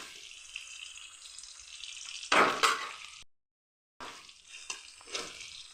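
Curry leaves with chana dal and urad dal frying in hot oil for a beetroot poriyal, a steady close sizzle with a louder crackling burst partway, a brief gap of silence, then the hiss resumes.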